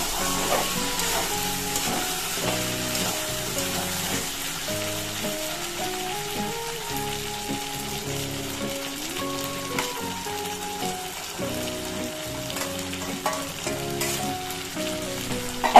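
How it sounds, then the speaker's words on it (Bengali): Fried potato and green chili paste sizzle in a pan as they are stirred, a steady crackling hiss running the whole time beneath a tuneful background melody. "এখন আমি ভাজা আলু আর কাঁচা লঙ্কা বাটা এই যে দিয়ে দিয়েছি, নাড়াচাড়া করে"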